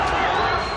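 Crowd shouting and yelling during street rioting in Dublin, Ireland, a dense, loud wall of many voices filling a brief moment.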